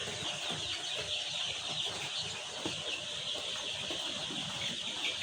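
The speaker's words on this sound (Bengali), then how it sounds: "এই মুরগিগুলো হলো ব্রাউন কক" Young brown cock chickens, about fifteen days old, in a large brood shed, clucking and cheeping as a dense, continuous flock chatter at moderate distance, with no voices.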